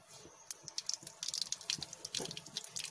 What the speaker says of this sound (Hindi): तेल गर्म हो गया, इसमें 1 चम्मच राई डालेंगे